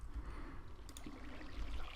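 Water flowing in Minecraft after being placed in a redstone build, a soft continuous trickling and rushing wash, faint and steady throughout.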